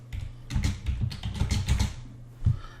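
Quick, irregular keystrokes tapped out on a computer keyboard in a quiet room, clustered in a short burst followed by a couple of isolated taps near the close.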